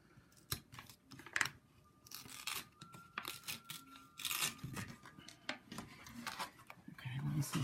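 Paper scored and peeled off a fabric backing in a craft project, heard as irregular close tearing and crackling rips, some sharp, along with faint rustling and handling noises.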